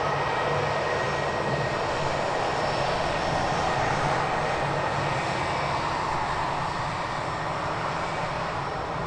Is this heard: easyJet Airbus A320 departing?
yes